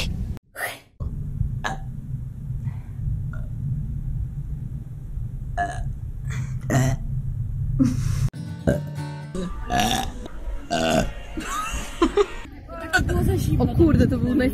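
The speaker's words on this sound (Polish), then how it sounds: "to był najsłabszy bek na świecie." A person lets out a weak, short burp among bursts of chatter and laughter from several voices in a room, with other vocal noises following.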